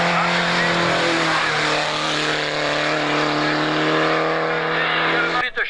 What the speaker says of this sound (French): le volant de cette superbe BMW de 2 litres de cylindrée, je vous le rappelle